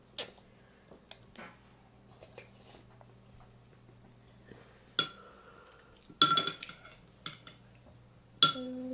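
A small child scoops homemade soup with a spoon, making scattered clinks and taps against the bowl across several seconds, some sharp and bright, others soft, heard close in a quiet room with faint eating noises.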